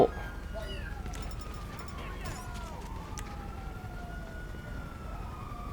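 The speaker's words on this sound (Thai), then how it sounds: "ร้องทำไมแมวกูร้องอีกแล้ว" A cat meows a few times, its cries rising and falling, over a steady low rumble with faint background voices.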